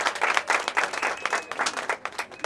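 Guests at a traditional wedding clap their hands together in loud, uneven bursts of applause that rise and fall, a lively crowd sound close by.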